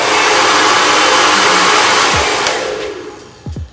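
Hair dryer blowing hard on its highest of two speed settings, a loud steady rushing whoosh that holds for a few seconds and then begins to wind down, with a couple of faint clicks near the end.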